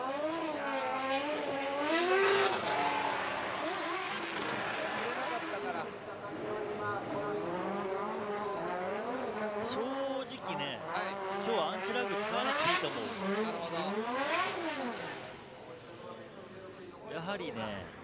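A drift car spins out at a D1GP drift event at Okuibuki in Japan, its tires squealing in long wavering howls under a revving engine, while a commentator talks over the action.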